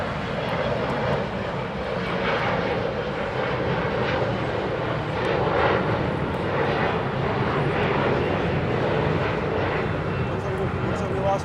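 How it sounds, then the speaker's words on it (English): An Embraer E-Jet airliner rumbles steadily at LAX as a broad, sustained engine roar at moderate distance, with people talking over it. "Look at this E-Jet."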